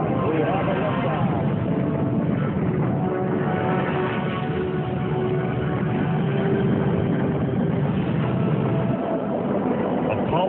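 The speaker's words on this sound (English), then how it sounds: "Liftoff. We have a liftoff." The Apollo 11 rocket roars at liftoff, a dense, continuous low rumble of engines lasting throughout, heard through a muffled, band-limited broadcast recording with a voice speaking over it.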